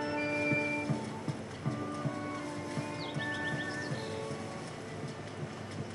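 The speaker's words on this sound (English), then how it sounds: "Let's look at that guy riding the horse." A horse gallops in Zelda: Tears of the Kingdom, with regular, evenly spaced hoofbeats thudding at a quick rhythm over steady game ambience and a faint tonal backdrop, no voices.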